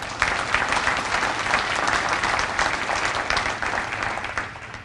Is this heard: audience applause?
yes